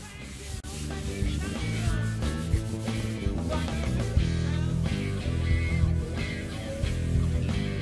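Rubbing linseed oil into a two-piece alder guitar body with a cloth, producing continuous close rubbing and wiping strokes in a steady back-and-forth rhythm, with no talk.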